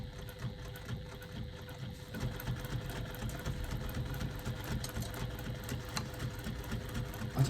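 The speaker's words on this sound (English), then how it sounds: "I'm going to stitch around all the way around the outside using a 3/8 of an inch seam allowance." A domestic sewing machine runs steadily, stitching a construction seam around a fabric-and-foam wristlet at just under 3 stitch length, a close, even rapid mechanical whirr with no talking.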